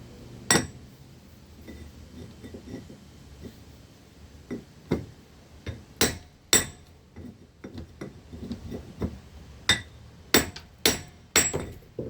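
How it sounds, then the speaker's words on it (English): Hammer blows striking a brick chisel driven into a chunk of steel, sharp metallic clinks landing one after another at irregular intervals, close and loud against a quiet background with no talk. "just set the chisel aside and go at it with a hammer"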